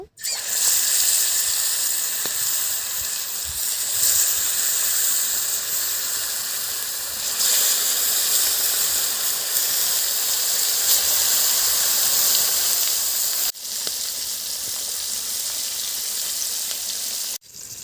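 Large pieces of snakehead fish frying in hot oil, a loud, dense, steady hiss and sizzle close by that continues unbroken, with a brief cut partway through and no talking.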